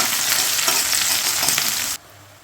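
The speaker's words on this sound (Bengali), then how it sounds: "পেঁয়াজ বাদামি করে ভাজা নেব।" Chopped onions sizzle loudly in hot oil with whole spices such as cardamom, cloves and cumin, a dense frying hiss with stirring that cuts off abruptly near the end, leaving quiet.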